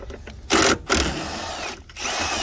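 A power tool loosening two 12mm bolts beneath the removed wiper cowl cover of a car, in bursts: a loud whirring run, a short pause, another burst that trails into a steadier mechanical hum.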